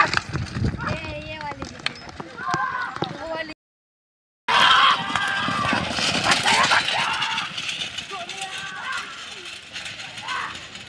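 Bullock cart race, bulls running with a cart, a rapid clattering of hooves and rattling wheels with crowd noise and shouting voices, loud and close, briefly cut to silence midway before resuming.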